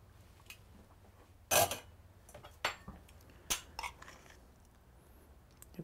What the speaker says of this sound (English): I'm going to put some of this on my plate